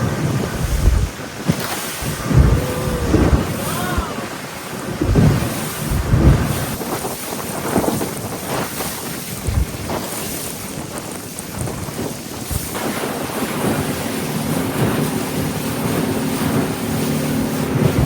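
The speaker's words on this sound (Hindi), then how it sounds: "हवा भी चल रही है" Strong wind blows at sea near Phu Quoc Island, roaring across the microphone in loud gusts with the wash of waves and water beneath, continuing steadily with no voices.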